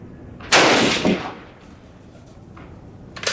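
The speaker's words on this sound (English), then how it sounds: "the percussion from this big 30-06 just really shakes my chronograph downrange" A .30-06 rifle firing Winchester WWII Victory Series ammunition at an outdoor range with a chronograph and dirt berm, one sharp, loud close report with a rolling echo, then a fainter crack near the end.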